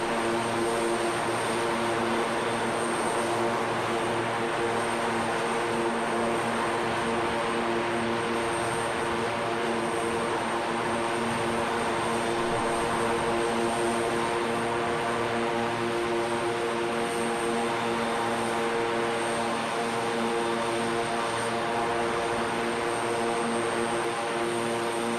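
A Chinook twin-rotor helicopter flies overhead at a display, giving a loud, steady rotor and engine drone with a pulsing beat that runs unbroken and alone.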